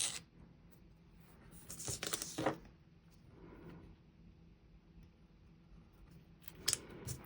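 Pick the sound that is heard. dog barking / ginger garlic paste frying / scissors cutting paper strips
scissors cutting paper strips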